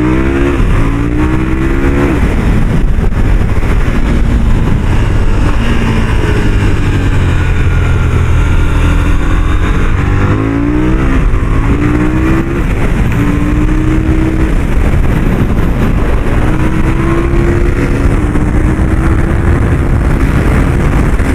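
A KTM motorcycle engine runs loud and close while riding, its pitch climbing and dropping through repeated gear changes with a constant rush of wind over the microphone.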